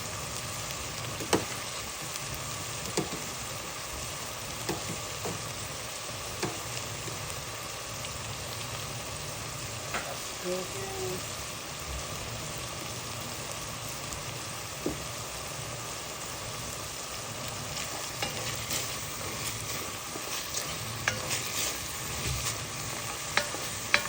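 Turkey frying in a pan for a creamy pasta dish, giving a continuous crackling sizzle with occasional soft scrapes and taps from stirring, steady and fairly quiet throughout with no voices.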